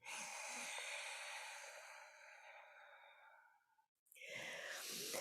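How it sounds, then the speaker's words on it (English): Ujjayi breath: a long, soft, breathy exhale through the nose with an airy 'ha' quality, fading out, followed by a short pause and the start of another breath, close and quiet. "inhaling through your nose, exhaling through your nose, but making the ha sound"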